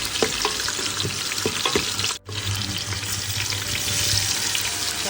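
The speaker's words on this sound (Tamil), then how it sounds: "கொஞ்சம் இதில் நெய் ஆட் பண்ணிக்கலாம். பட்டை, கிராம்பு, ஏலக்காய், பூண்டு, சீரகம், இந்த பிரியாணி இலை இதை போட்டு தாளிக்கணும்." Cinnamon, cloves, cardamom, garlic, cumin and bay leaf temper in hot ghee for biryani, making a loud, continuous crackling sizzle that drops out for a moment, then resumes.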